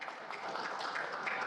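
Audience applause for Pak Narko at a public declaration event, a steady wash of clapping held at an even moderate level throughout without a clear rise or fall.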